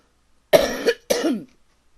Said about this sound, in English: a little whatever cough in me